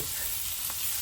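Fish frying in oil on a tawa, a steady close hiss and crackle of sizzling with a faint clink partway through, no voices.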